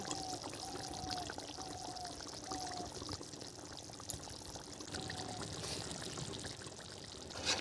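Ghee is poured with a ladle into a prawn malai curry, making a soft, faint trickling pour against quiet kitchen background noise.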